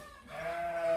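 A Saanen goat on a goat farm, recovering from pneumonia, gives one close, steady bleat that rises and holds for about a second, with no talk over it.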